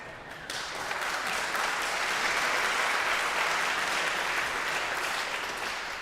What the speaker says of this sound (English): you even applaud him when he just walked up here